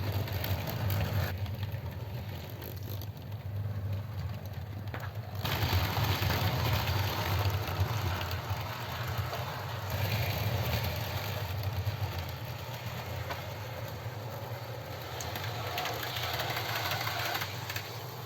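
A DC-powered model train runs along its track with a steady, close mechanical whir and rumble of its motor and wheels. The pitch shifts slightly as it moves, and no one speaks.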